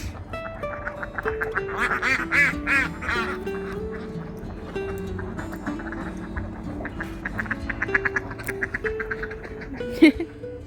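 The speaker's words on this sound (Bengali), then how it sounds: "এখানে হাঁস পালে হাঁসের ফার্ম" A crowd of ducks on a duck farm quacks nearly nonstop, loud and close, their calls overlapping, with faint voices mixed in.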